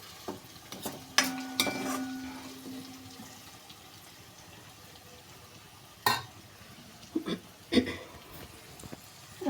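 Potatoes cook in a pan for black-pepper sabudana khichdi with a faint, quiet sizzle, broken by a few sharp spoon clinks and scrapes from stirring.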